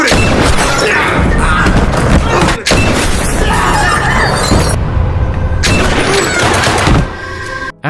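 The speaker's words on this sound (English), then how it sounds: "He loads his rifle and starts shooting." Rifle fire fills a movie action scene, loud and dense, with booming shots and crashing impacts packed together. The barrage breaks off twice briefly before it resumes.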